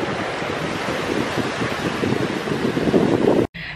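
Ocean waves wash in steadily at the water's edge while strong wind buffets the microphone, a continuous loud roar that cuts off abruptly near the end.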